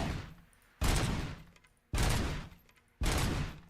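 Automatic gunfire from a video game weapon fires in three long bursts, each starting abruptly and loudly and then tapering off, with brief pauses between bursts.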